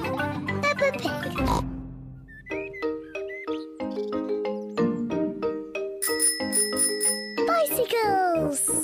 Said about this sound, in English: Peppa and George are riding their bicycles